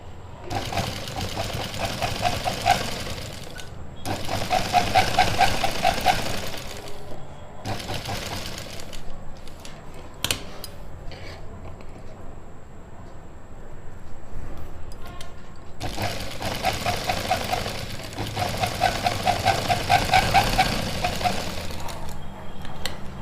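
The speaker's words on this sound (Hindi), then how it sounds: "थोड़ा थोड़ा कपड़ा सेट करके आप इस पे अच्छे से सिलाई लगाइए" Close, steady runs of sewing machine stitching on suit fabric come in several stretches, with brief quieter gaps between them where the motor slows or stops.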